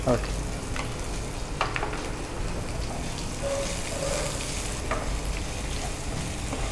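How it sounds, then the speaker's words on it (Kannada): A small onion fries in a pan, a loud continuous sizzle and crackle filling the whole stretch, with occasional faint utensil taps, heard up close and with no one speaking. "ಈರುಳ್ಳಿ ಹಾಕ್ತಿದ್ದೇನೆ. ಒಂದು ಸಣ್ಣ ಈರುಳ್ಳಿ."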